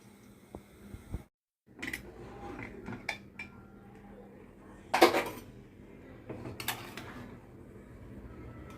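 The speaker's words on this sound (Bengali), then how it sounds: "এখন আমি প্রেসার কুকারে ঢাকনাটা লাগিয়ে দিব।" Metal clatter and clanks as a lid is fitted onto a pressure cooker of khichuri, several sharp knocks and scrapes spread across a quiet kitchen background.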